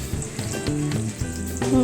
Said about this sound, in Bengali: পটলগুলো ভেজে নিচ্ছি